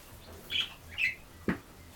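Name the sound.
cockatiel parrot chirping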